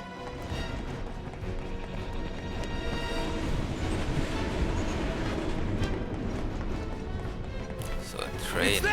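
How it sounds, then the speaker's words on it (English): A train passes in Final Fantasy VII Remake, a continuous rumbling and clattering that runs throughout under game effects and a talking voice. "So a train there."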